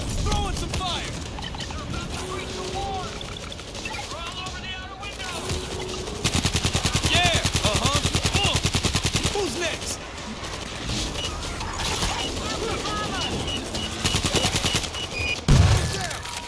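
Gunfire in the game World War Z, long rapid automatic bursts with a steady rattling rhythm, loud and close, mixed with shouting voices and combat noise.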